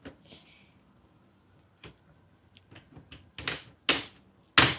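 Plastic screen cover on an Acer V3-572G-74C9 laptop being pried off with a thin card or screwdriver: scattered small clicks and ticks that build into several louder, sharp snaps of clips releasing near the end.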